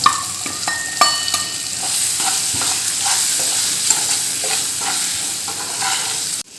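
Raw mango stirred with chili powder and salt in a bowl, a steady scraping and stirring close by with repeated taps of the utensil and no voices.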